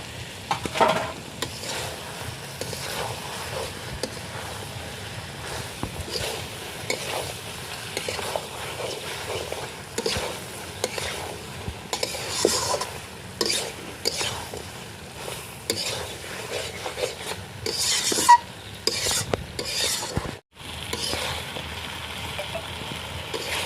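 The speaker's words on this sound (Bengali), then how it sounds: "তো ভালো করে মাংস কষানো হয়ে গেল।" Meat and potatoes being stirred and sautéed in a pan for a picnic meal, with steady close sizzling and frequent scraping and clinking of a spoon against the metal pot.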